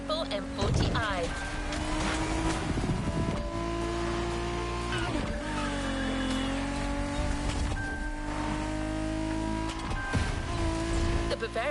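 A BMW Z4 M40i roadster drives in the Motorfest racing game, its engine droning and revving steadily with shifting pitch and brief tire noise, heard under continuous talk throughout.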